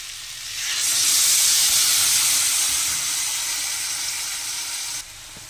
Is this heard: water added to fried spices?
yes